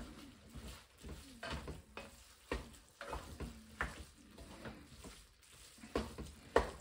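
A spoon stirs flour into minced meat frying in a pan for lasagne bolognese, producing quiet, irregular scraping and soft sizzling in short bursts, close by, with no voices.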